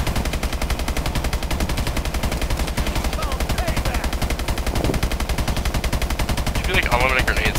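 Rapid, unbroken automatic gunfire from Exo Zombies on the Carrier map, a fast even stream of loud shots, with a player's voice faintly audible underneath near the end.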